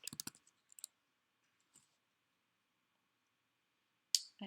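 Quiet, sharp mouse clicks come in small bursts, a few at the start and another pair near the end, with silence between.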